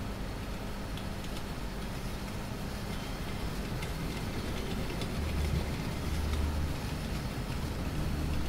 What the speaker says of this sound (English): I think I need to pull this train